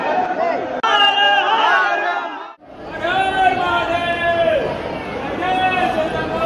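A dense crowd at the Mahakal temple in Ujjain, a loud, continuous hubbub of many voices and chanting with strong overlapping vocal tones, briefly cut off before surging back.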